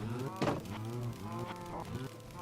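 Cows in the video game Minecraft moo repeatedly, their low, drawn-out synthetic calls overlapping steadily at moderate volume with no pause.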